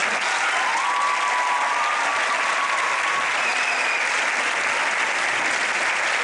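Steady, dense applause from a school theatre audience after a student play, loud and continuous throughout with no break, only faint whistles or calls rising now and then above the clapping.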